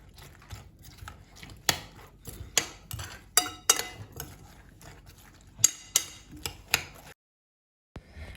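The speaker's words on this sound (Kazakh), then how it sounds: "Жұмыртқа мен пиязымызды жақсылап екеуі біріккенше араластырып аламыз." Eggs and onion get mixed together in a bowl for semolina cutlets, heard as irregular close taps and clinks of a utensil against the dish, then a short silence and one last knock.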